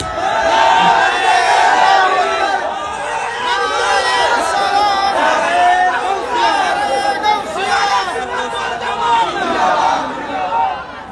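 A large crowd at a religious gathering raises slogans, a loud sustained roar of many voices chanting and shouting together from start to finish.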